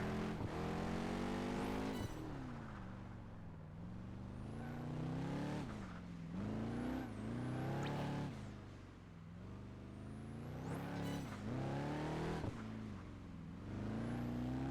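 A racing car in Project Gotham Racing 4 labours in the low end of second gear, its engine droning and bogging with repeated rising revs, abrupt gear shifts and brief drops, loud and continuous throughout.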